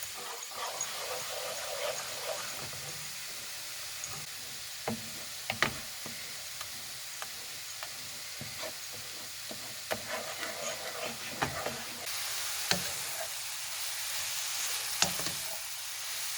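A spoon scrapes and stirs a milk powder khoya mixture for carrot halwa in a hot pan, giving a steady soft sizzle with intermittent scraping knocks, close and continuous, with no talk.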